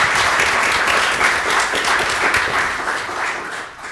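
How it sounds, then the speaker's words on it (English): Steady, dense applause from a crowd at a City of Sugar Land land use forum. It fills the room evenly and holds for about four seconds before easing off slightly at the end. "give Keith a round of applause."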